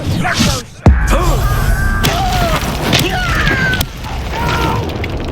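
A Confringo blasting spell from Hogwarts Legacy lands with a sharp explosive boom near the start. Rumbling, crackling magical effects and whooshing tones follow over busy game ambience.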